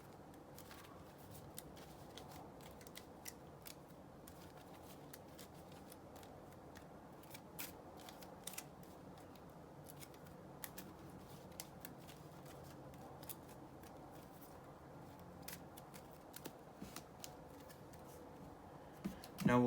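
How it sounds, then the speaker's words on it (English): A Marvel Champions encounter card deck is shuffled quietly and close by, a long run of soft riffling, crackling card snaps. "And we'll give the encounter deck a shuffle."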